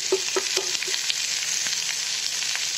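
Potato and capsicum chunks fry in hot oil in a pan, giving a steady close sizzle with a few brief stirring clinks near the start.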